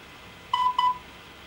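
Two short electronic Morse code beeps in quick succession from an app on a Nokia Lumia 800 Windows Phone 7 handset, clear and close, over a faint background hiss.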